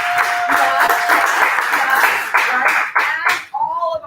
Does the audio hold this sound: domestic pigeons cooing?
no